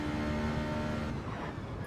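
A Citroen race car in a racing video game is pushed flat out through Suzuka's 130R and toward Spoon corner. Its engine drones loud and close, a steady high tone held through the bend with no talk over it.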